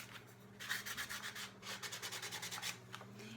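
Sandpaper rubs along the rim of a piece, a quick series of rhythmic scratchy strokes, close up and fairly quiet, with no talk.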